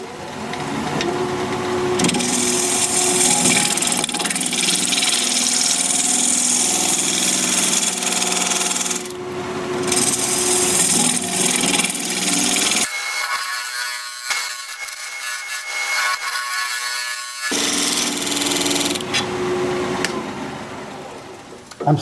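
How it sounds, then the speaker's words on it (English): A wood lathe spins an apple wood root ball at 1225 RPM while a half-inch bowl gouge cuts into it, giving a loud continuous motor hum with scraping, chattering tool contact that drops out briefly and returns. "We're going to be turning at 1225 RPM, half-inch bowl gouge"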